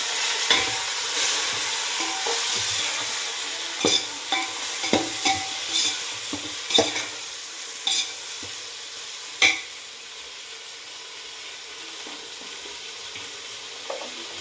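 Tomatoes fry in a hot pan with a continuous close sizzle, punctuated by repeated scraping knocks of a spoon stirring against the pan.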